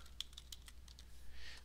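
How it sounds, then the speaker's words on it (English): Light, quick keystrokes on a computer keyboard, several separate clicks in an irregular rhythm, close and fairly quiet over a low room hum. "so we're going to start by typing in print."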